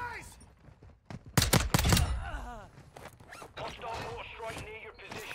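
Loud explosive blasts crash together in a video game mortar strike, a dense cluster of booms and crackling debris followed by rumbling aftermath and scattered sharp noises.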